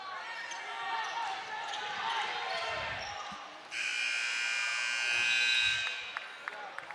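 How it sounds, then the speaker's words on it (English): A loud electronic horn sounds to end the quarter in a high school basketball game between Gilmer and Lumpkin, holding for about two seconds over crowd noise and ball bounces, with a commentator talking. "Long shot there at the buzzer by Sherrill is no good"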